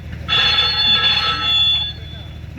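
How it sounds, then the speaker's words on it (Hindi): A telephone rings in a home, a steady electronic ring holding for about two seconds, loud and close, with faint conversation murmuring beneath it. "देखना तो किसका फोन है?"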